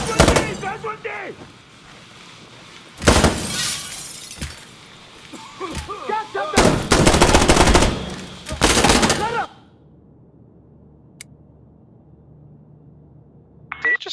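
Gunfire in the video game Insurgency Sandstorm: several loud, dense bursts of shots in two main volleys, each a few seconds long, with speech between them, then near silence apart from a faint sharp sound at the end.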